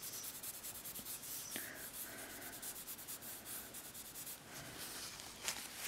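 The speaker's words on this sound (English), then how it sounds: "So that's how I would do some really soft transitions blending out with the tissue." Soft tissue rubs across drawing paper to blend pencil shading, a faint, continuous dry swishing with small scratchy strokes, close and quiet with no talking.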